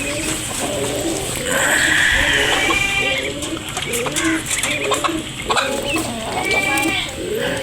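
Chickens clucking while being fed grain, with busy clucks and dove-like cooing close by, loud and overlapping, mixed with people talking nearby.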